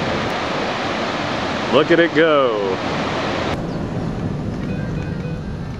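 Waterfall visited on a day trip near Rochester, a steady broadband rush of falling water throughout, with a short burst of voices partway through.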